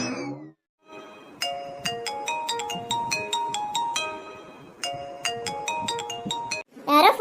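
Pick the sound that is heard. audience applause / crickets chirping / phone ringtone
phone ringtone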